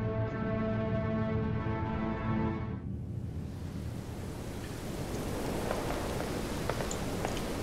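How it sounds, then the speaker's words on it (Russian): Heavy rain in the horror game Detention rises as a dense, steady wash of loud broadband downpour. It takes over after a few seconds of tonal music and continues alone, with scattered sharper drop hits. "Ого, дождь разошелся не на шутку."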